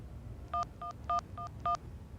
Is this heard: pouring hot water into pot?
no